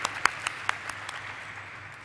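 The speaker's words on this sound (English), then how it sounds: "A huge round of applause to the entire team of JNK India" Applause from the audience at JNK India Limited's stock listing ceremony: a soft, continuous patter of many hands with a few sharper individual claps early on, fading slightly toward the end, with no talk.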